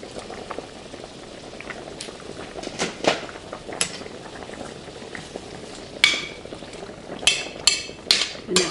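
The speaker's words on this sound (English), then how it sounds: "And now I'm going to add my 1 pound of shrimp." One pound of shrimp going into a cooking pan of bubbling liquid brings a steady simmering bubble, with scattered clinks, louder splashes and sharp sizzling spurts clustering toward the end.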